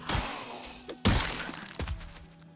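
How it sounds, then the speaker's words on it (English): A hammer smashing a zombie's head onto grass in Project Zomboid, giving two or three sharp crunching, shattering impacts with short decays, the middle blow loudest. "It's just the sound of their head smashing into the grass."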